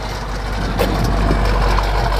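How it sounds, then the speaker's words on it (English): A 1965 Ford Mustang GT convertible, tuned up and fitted with trombone exhaust, idles steadily at close range with a deep low rumble, no voices over it. "And the trombone exhaust coming out the back."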